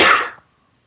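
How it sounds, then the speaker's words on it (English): One short cough from a person at a recording session, close and fairly loud, cut off sharply and followed by silence. "trying to cough less during the recording"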